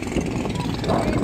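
A low engine rumble from a small motorboat chugs steadily nearby off Samal Island, Davao, brief and continuous, with some faint background noise.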